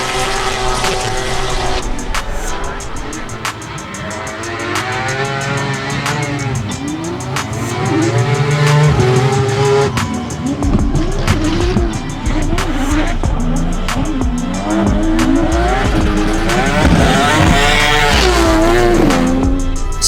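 Drift cars, including a Nissan R35 GT-R, compete in a drifting event with loud, wavering engine revs and bursts of tire squeal, interrupted by repeated sharp gear-change pops over about twenty seconds.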